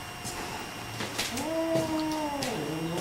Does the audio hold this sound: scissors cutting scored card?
no